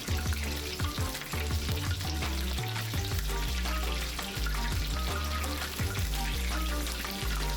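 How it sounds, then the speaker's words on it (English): Pieces of fish deep frying in a pot of oil for crispy fish tacos, a continuous dense bubbling sizzle that stays loud and close throughout with no talking. "Make sure you don't crowd the pot while frying."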